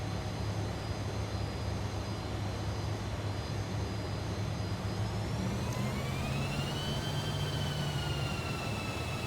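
Fokker F28 jet engines running steadily in Microsoft Flight Simulator 2020, a continuous loud turbine roar with a high whine that rises in pitch partway through as power is set.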